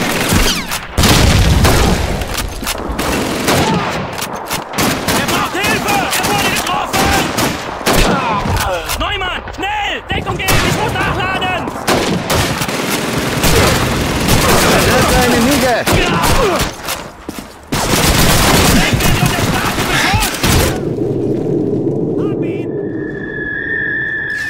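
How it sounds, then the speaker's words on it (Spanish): Bursts of MG-42 machine gun fire rattle through a Call of Duty 2 battle, loud and dense, mixed with explosions and shouted voices for most of the stretch before a sudden drop to quieter background. "¡Es una MG-42! ¡Tenemos que detenerlo!"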